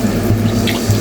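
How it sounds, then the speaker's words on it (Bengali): Water is poured into a pan of parshe fish curry to make the gravy, a brief steady splashing pour up close. "ঝোলের জন্য পানি দিয়ে দিলাম"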